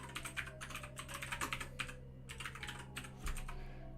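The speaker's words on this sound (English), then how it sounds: "It's really weird typing it in the American way." Code is typed on a computer keyboard in quick bursts of close, clicky keystrokes separated by short pauses, with no talking.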